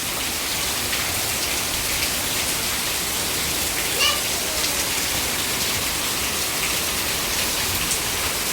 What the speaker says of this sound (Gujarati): બૂમ પડાવી રહ્યો છે વરસાદ.